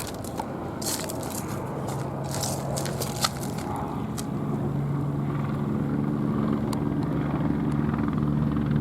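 A helicopter circles overhead, a steady rotor and engine drone that grows slightly louder, mixed with scattered clicks and handling noise, with no talk.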